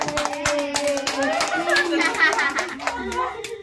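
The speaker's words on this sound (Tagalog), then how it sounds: "Tuwan-tuwa na palakpak." A group of people clap together at a little girl's first birthday party, quick bursts of applause close by mixed with excited chatter and a voice.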